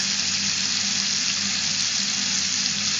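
Water runs steadily from a hose in a surgical clinic, a constant loud broadband hiss and splash with no breaks, close by and alone without talk.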